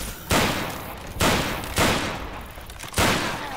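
Loud video game gunfire, heavy blasts arriving in four separate bursts over a continuous roar of shooting, close and dominant with no talking.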